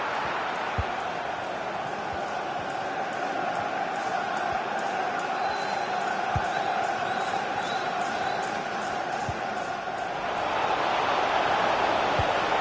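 A football stadium crowd in the video game EA FC 24, a constant loud murmur of spectators with occasional thuds, under commentary.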